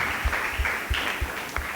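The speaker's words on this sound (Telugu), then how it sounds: "గట్టిగా చప్పట్లు తెలియజేసుకుందాం." A church congregation at a Sunday service applauds, a brief burst of dense, continuous clapping with no voices.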